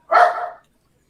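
A single dog bark rings out loud and close, a short half-second burst followed by silence.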